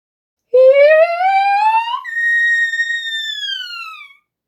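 A single sung soprano phrase climbs in a smooth rising arpeggio, then flips abruptly into a thin, piercing whistle-register (flageolet) tone that is held and slowly fades out.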